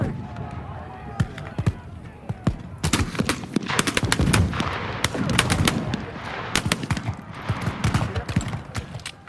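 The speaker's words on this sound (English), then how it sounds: "Commence firing." Minie rifles fired independently at a historical Crimean War reenactment shoot, a ragged string of sharp reports at uneven intervals, some near and loud, others farther off, with a steady crowd and outdoor murmur underneath.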